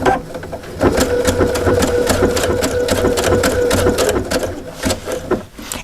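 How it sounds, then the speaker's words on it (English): A domestic sewing machine runs steadily, stitching along a folded fabric edge with a fast, even mechanical whir and needle rattle that stays loud and close for several seconds before stopping. "I'm going to stitch along the edge, and I'm going to want the fabric, the needle, to swing and catch just that folded edge."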